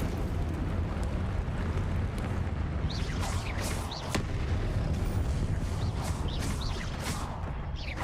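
Incendio fire spells cast in Hogwarts Legacy, a continuous roaring, crackling rumble with repeated whooshing flares and bursts over dense background battle noise, loud and sustained.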